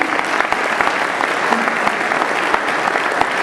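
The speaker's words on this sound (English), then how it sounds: "Give them all a round of applause for everything they've done." Enthusiastic audience applause fills a room at a running club conference, a dense, steady clatter of many hands clapping close by with no voices over it.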